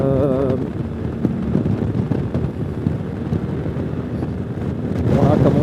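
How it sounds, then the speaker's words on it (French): Continuous heavy wind rush and engine rumble while riding a Zontes 368G motorcycle, loud and steady throughout, with a voice briefly audible at the start and end. "j'ai toujours pas mal de vent"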